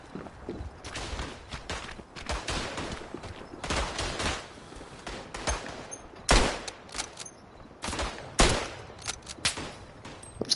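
Carbine fire in the WW1 shooter Tannenberg on the eastern front, a series of sharp rifle cracks spaced irregularly among background battlefield noise, with footsteps and other shots mixed in.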